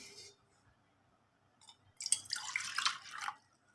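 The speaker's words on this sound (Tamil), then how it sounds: "இப்போ இந்த கிளாஸ்லேயே நான் தண்ணி கொஞ்சோண்டு ஊற்றி கலந்து இது பண்ணிக்கிறேன்." A small splash of water trickles into a glass to mix donut dough, a brief soft pour of about a second after a quiet pause, with faint drips before it.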